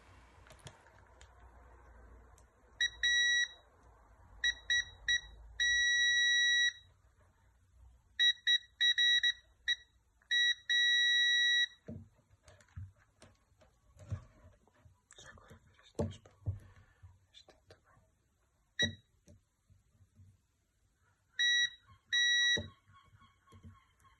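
A continuity tester beeps in short bursts while probing the brush wires of a Bosch BBHMOVE4 vacuum, sharp high repeated beeps in clusters separated by quiet handling clicks and soft whispery talk.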